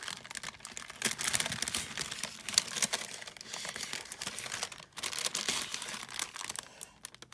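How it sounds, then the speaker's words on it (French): Paper crinkles and rustles close by, an uneven stream of crisp crackling and handling noises with brief pauses, no voices. "désolée pour le bruit, c'est le papier."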